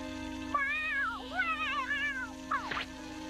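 A cartoon cat meows repeatedly in a sing-song, wavering run over a steady background hum, closing with a sharper, higher yowl. No one speaks over it.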